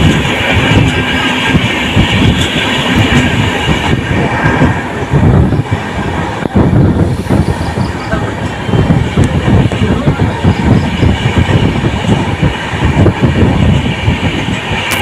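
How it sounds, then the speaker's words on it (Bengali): A train runs through forest in the Dooars, heard from on board as a loud, steady rumble with rhythmic clatter of wheels on track that lasts throughout. "এখন তো ট্রেনের স্পিডটা মোটামুটি চলছে ভালোই, কিন্তু গুল্ম ফরেস্টে একদমই স্লো হয়ে যায়।"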